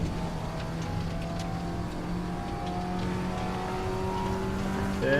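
Audi TT Cup race car from 2016 at Portimao GP circuit, its engine droning steadily under throttle with a sustained, close tonal whine that climbs slightly in pitch toward the end.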